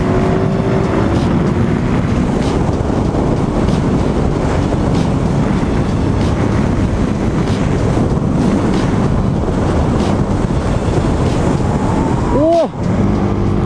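A KTM SMC R 690 motorcycle rides hard through curves, with heavy wind rush and engine rumble filling the scene throughout and a short voiced exclamation near the end.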